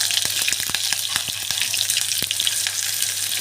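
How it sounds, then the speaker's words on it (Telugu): Sliced onions fry in hot oil with mustard seeds and cumin for coconut rice, a close, dense sizzle peppered with rapid crackling pops. "అలాగే ముందుగా కట్ చేసుకున్న ఒక ఉల్లిపాయ ముక్కలను"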